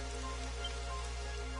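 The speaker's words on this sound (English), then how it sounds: "It would have to go and start raining, wouldn't it?" Rain falls steadily in Dragon Quest 11 as a constant soft hiss over a low, even background drone, with no voices.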